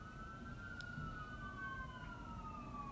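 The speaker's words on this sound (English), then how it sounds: "And the sirens have started back up again." Emergency vehicle sirens pass through a city, their long wailing tones sliding slowly in pitch over a constant low traffic rumble, heard at a moderate distance and faint.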